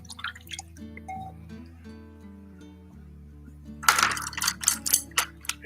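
A paintbrush is rinsed in a water cup during an acrylic painting session, a quick burst of close splashing and dripping taps near the end after a quieter stretch with faint background tones.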